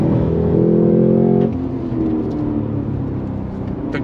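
A 2023 Cadillac CT5-V Blackwing sedan accelerates hard in first gear, its engine roaring loud and close with a steady high-revving drone that drops off abruptly as the driver lifts, then settles into a lower rumble with faint road noise.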